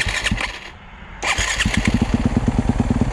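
Yamaha YZ250FX dirt bike started while in gear: a short cranking burst, a pause, then the engine catches into a rough, lumpy idle with rapid, even firing pulses, close and loud.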